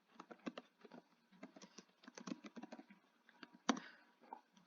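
Rapid bursts of typing on a computer keyboard, close and fairly quiet, with uneven clusters of key clicks, brief pauses, and one sharper louder key strike near the end.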